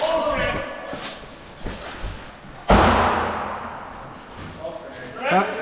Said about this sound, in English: That's gonna be a grenade.